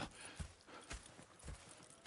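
Horse hooves clip-clopping in Red Dead Redemption 2 on PS4, a steady walking rhythm of soft thuds with faint game ambience behind.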